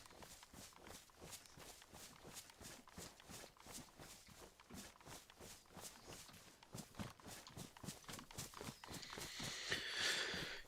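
Rapid, regular footsteps crunch through winter terrain in the survival game DayZ, set in snowy Livonia, a steady run of close steps that grows louder toward the end with a hissy wash.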